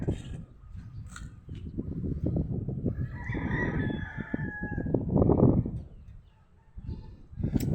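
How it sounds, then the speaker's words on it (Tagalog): Fighting roosters crow repeatedly nearby amid steady clucking and rustling from a flock of chickens, with occasional bird chirps above. "ayan po yung mga manok."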